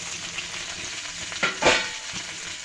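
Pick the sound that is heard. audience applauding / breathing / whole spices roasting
whole spices roasting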